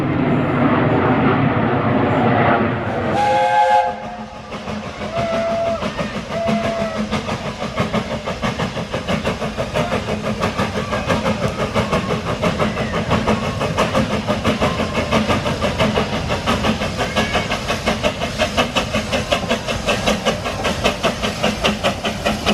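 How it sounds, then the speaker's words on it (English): An aircraft passes overhead along the Luton Airport flight path above a zoo park, a steady, loud broadband roar with a low rumble that holds for the whole stretch after a brief louder burst near the start. "The sound of the aircraft going above, that is obviously because we're on the flight path of Luton Airport"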